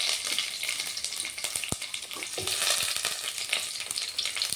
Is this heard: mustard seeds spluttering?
yes